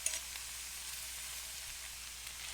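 Pineapple chunks frying and caramelizing in their own juice in a pan for Polynesian fried rice, a steady soft sizzle with faint crackles, close and continuous with no voices.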